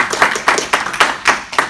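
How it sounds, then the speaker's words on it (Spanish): At an academic conference session in Boston, a few slow, distinct hand claps sound close by in a loose rhythm of about six beats, sparse rather than a full crowd's applause. "Y eso es algo que merece un aplauso."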